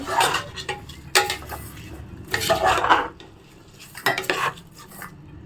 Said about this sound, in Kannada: ಆವಾಗಲೇ ತೊಳೆದು ಎತ್ತಿಟ್ಟಿರೋ ಅಕ್ಕಿನ ಹಾಕೋತಾ ಇದ್ದೀನಿ ಸ್ವಲ್ಪ ಮಿಕ್ಸ್ ಮಾಡ್ಕೊಳ್ಳಿ